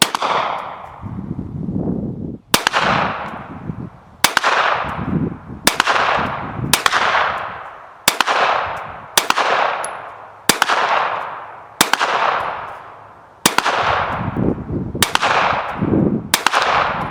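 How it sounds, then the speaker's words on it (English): Hi-Point pistol firing rounds from a high capacity aftermarket magazine at a shooting range, about eleven loud sharp shots spaced roughly a second or more apart, each with a ringing decay, close and alone. "we're going to go ahead and try it with 15 rounds through our problem magazine"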